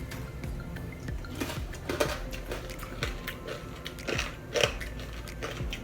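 Crunchy roasted pork skin from a Spanish pernil pork shoulder crackles and snaps in a series of close, irregular crisp cracks, faint overall, with no talk over it.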